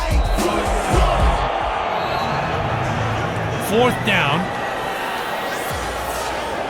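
Stadium crowd at a 2011 Lingerie Football League night game between the Chicago Bliss and Seattle Mist, a steady roar of cheering with a brief surge near the middle, heard under a commentator's voice.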